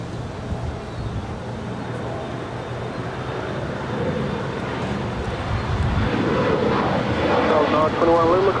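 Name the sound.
Alaska SkyWest Embraer E175 jet departing LAX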